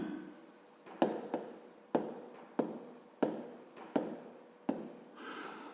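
Pen strokes on paper as a maths solution for a fifth-grade geometry exercise is written out, coming in about seven quiet, evenly spaced scratching bursts close by.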